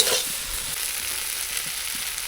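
Boiled potatoes stir-fried in a pan for a spicy chicken pakora curry, giving a steady, close sizzle of frying with faint stirring scrapes throughout and no talking.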